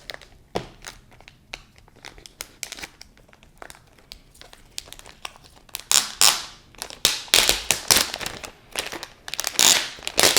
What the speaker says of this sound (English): I'm going to bring it right close to the mic so you can hear that glorious plastic as I take it off